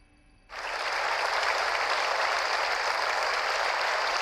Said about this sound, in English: Stock clapping sounds